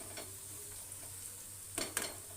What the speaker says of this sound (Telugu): ఇప్పుడు ఇందులో ఒక కప్పు కొబ్బరి తురుము వేస్తున్నాను వేసి చక్కగా కలిపేసుకుని